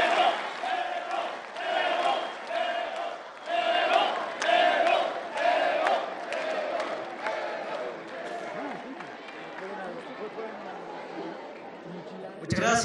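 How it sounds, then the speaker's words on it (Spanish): Loud crowd cheering and chanting with clapping at an outdoor rally in Bolivia's Valle Alto, Cochabamba, greeting President Evo Morales, with many voices shouting in bursts and a sustained roar that fades slightly toward the end. "El aplauso fuerte para él, por favor."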